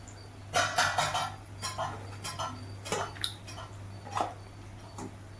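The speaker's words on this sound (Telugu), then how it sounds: "పీతలకు అంతటికి ఆ మసాలా పట్టే విధంగా కలుపుకుందాం." Crabs are being stirred into a masala curry in a pan, with irregular clinks and scrapes of a utensil against metal over a low steady hum.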